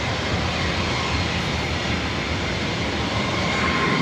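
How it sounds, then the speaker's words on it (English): Old Northwest Airbus A320 jet at an airport, a steady, loud broadband engine roar that holds level throughout with no talk. "This old Northwest A320."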